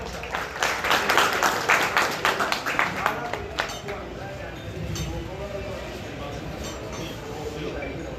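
Crowd applause at a stage event, a dense patter of clapping that is loud at first and then thins and fades to a softer, steadier wash.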